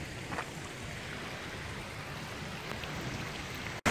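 A mountain waterfall in the Carneddau sends up a steady broadband rush of falling water, heard from some distance as a continuous hiss with no voices over it.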